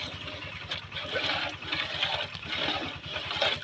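A large pot holding about seven litres of water heats for home-made biryani, giving a steady, close rushing and bubbling hiss with a low, rhythmic thrum underneath that continues throughout.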